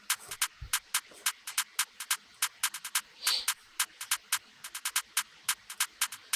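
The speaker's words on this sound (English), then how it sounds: "So if you listen to the hi-hat pattern, it should sound like this." UK drill hi-hat pattern with rolls programmed in FL Studio 20: crisp, bright ticks in a bouncy, syncopated rhythm with occasional quick rolls and one short open hiss, heard alone.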